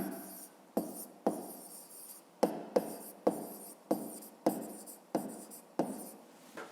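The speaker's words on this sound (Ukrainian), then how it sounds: "Зараз записуємо розв'язання." A pen or chalk scratches out a math solution in about nine quick, evenly spaced strokes, each with a sharp tap at the start and a short scratchy tail, close and clear with no talk.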